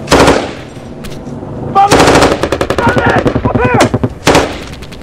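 Loud, close machine gun bursts crack out in rapid rhythmic volleys during a firefight between Royal Marines and Taliban fighters in Zumbelay, Helmand, with short pauses between strings of shots and a final burst near the end.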